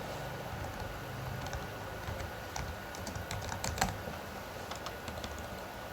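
Typing on a computer keyboard while entering text into an HTML table, a run of quick, uneven key clicks over a steady background hum, close and without talk.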